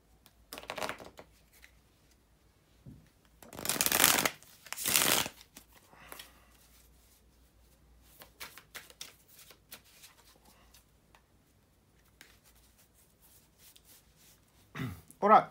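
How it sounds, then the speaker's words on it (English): Tarot cards being shuffled at close range, a few short riffling bursts separated by quiet stretches with soft handling sounds in between. "to shuffle the tarot cards"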